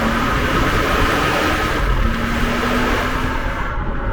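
A Bentley Flying Spur's twin-turbo 12-cylinder engine gives off a smooth, muffled, steady drone with a faint tonal hum, heard without any talk.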